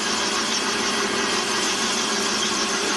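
A lathe turns a lubricated 20mm drill bit at 400 RPM as it bores gently into the workpiece, making a steady close whirring hum with a constant tone and no talking.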